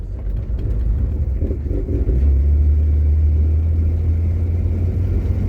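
An old car that sat unused for 28 years drives on its first outing, a steady close engine rumble with a strengthening low drone as it pulls along.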